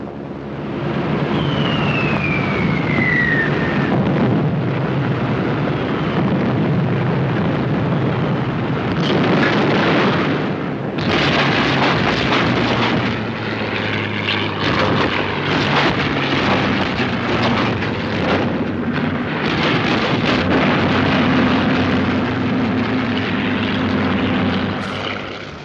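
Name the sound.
WWII bombers, fighters and explosions in archival film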